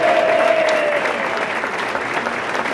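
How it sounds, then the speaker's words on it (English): Guests at a St. Patrick's Day parade brunch in New York applaud in a steady, loud round of clapping, with a brief whistle-like tone early on. "I also want a round of applause for Tommy Smith,"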